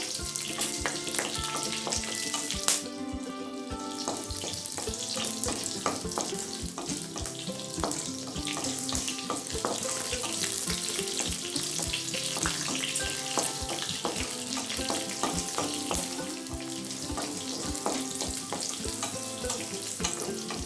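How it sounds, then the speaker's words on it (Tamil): Green chillies sauté in hot oil in a pan for onion mint chutney, a steady close sizzle with frequent stirring clicks and scrapes throughout, no talking. "பச்சை மிளகாயை நல்லா வதக்கியாச்சுங்க."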